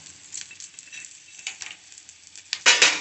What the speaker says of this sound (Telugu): ఇప్పుడు మళ్ళీ కడాయి పెట్టుకొని ఆయిల్ వేసేసుకున్నాను. ఇప్పుడు పోపు దినుసులన్నీ వేసేసినాను చూడండి.